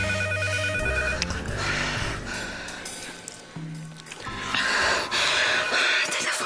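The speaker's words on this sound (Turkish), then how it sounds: "Telefon çalıyor." A telephone rings in a dramatic film scene, its repeating tones tangled with a busy, swelling music score that stays loud throughout.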